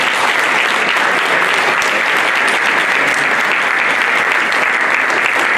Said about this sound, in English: everybody let's clap, let's clap, let's clap, let's clap